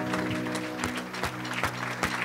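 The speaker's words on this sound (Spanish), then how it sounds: "Dele un aplauso fuerte al Señor." Congregational applause at a Spanish-language church service, a steady dense clapping from a crowd that fills the whole short moment.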